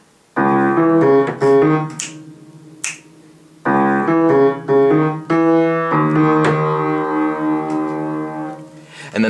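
Piano playing the left-hand loop from a song: a repeating pattern of sustained low and middle notes in a clear rhythm. It is close and fairly loud, with brief pauses between phrases and no voice.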